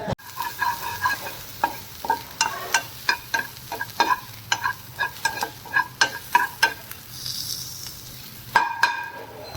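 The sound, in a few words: sautéing onion in oil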